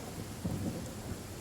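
A thunderstorm with rain in the Genshin Impact game's Sumeru region: a low, soft rumble of thunder swells briefly over a constant faint hiss of rainfall, fairly quiet and distant.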